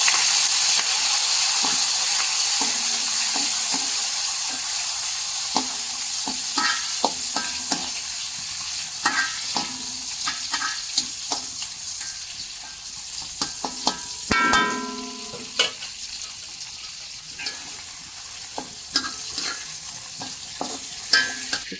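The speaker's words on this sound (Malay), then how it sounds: "Kita goreng dengan udang ni." Prawns fry in hot oil, a steady close sizzle with scattered crackles and a few louder pops and scrapes partway through.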